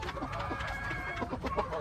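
Chickens cluck steadily on a farm in a busy, continuous chorus, several birds overlapping at close range with no pauses.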